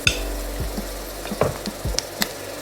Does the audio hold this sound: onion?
yes